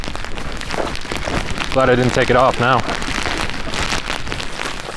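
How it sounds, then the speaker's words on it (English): Steady rain falls during a backpacking hike around volcanoes in New Zealand, a constant loud hiss of drops on a hood or gear close by, with a person speaking briefly over it. "Never mind. Rain's back."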